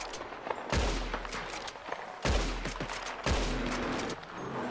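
Gunfire rings out in Red Dead Redemption 2, where three loud, booming shots land about a second and a half apart, each trailing into a rumbling echo.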